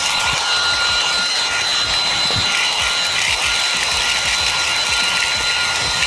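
A Fanttik Slim V10 Mix compact handheld vacuum running on its high setting, a loud, steady, close whine and rushing airflow with a constant high-pitched tone, with faint bumps of it moving over a vehicle surface.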